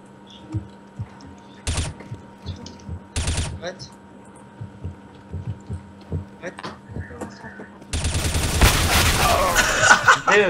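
M4 rifle firing in a Counter-Strike match: a few sharp separate shots early on, then a dense sustained burst of automatic fire toward the end, loud and close, over quiet background game noise.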